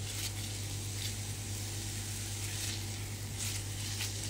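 Onions for Moroccan shakshuka frying in a pan, a steady dense sizzle with a low hum beneath, close and even throughout.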